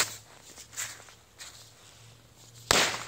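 A bottle rocket fires at a matchbox outdoors. Faint rustles and small pops lead up to one sharp, loud burst near the end.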